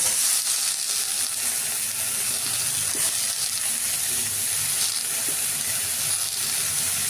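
Potatoes and long beans fry in a pan, a steady broadband sizzle with faint crackles and occasional stirring scrapes running throughout, close and even in level.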